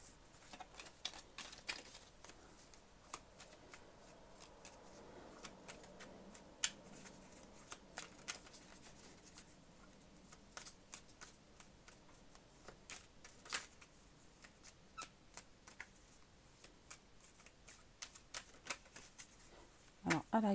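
Tarot cards shuffled by hand, giving quiet, rapid crisp clicks and riffling flutters that run steadily for about twenty seconds with small irregular bursts of louder snaps.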